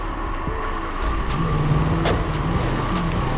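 A car in the GTA 5 video game runs with a steady engine hum, joined by a brief whine and a few short knocks and clicks partway through, with no voices.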